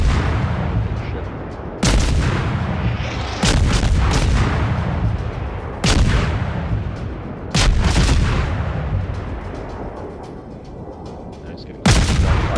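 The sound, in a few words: gunfire in the video game Verdun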